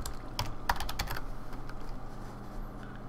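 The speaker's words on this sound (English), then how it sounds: "let's just type in apple here" Quick typing on a computer keyboard while searching for an item in Minecraft, a short burst of crisp clicky keystrokes early on that fades into quiet background hum.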